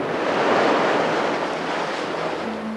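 Waves break against the jagged rocky coast at Hartland in a steady, roaring wash of surf, loud and continuous, with wind buffeting across the whole stretch.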